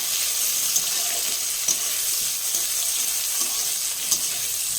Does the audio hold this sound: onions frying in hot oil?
yes